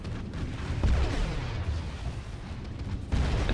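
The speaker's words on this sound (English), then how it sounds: "here is the barrage, destroying a Grand Mortar and an excavator" Artillery barrage in the strategy game Rise of the Reds, shelling a Grand Mortar and an excavator: a continuous rumbling roll of deep booms and bursts, with heavier impacts near the start and end.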